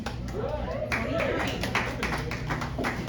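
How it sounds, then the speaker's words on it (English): A small audience gives a sparse, half-hearted round of clapping, a handful of separate claps ringing out over room murmur after a brief spoken line. "Well, that just felt like a pity clap"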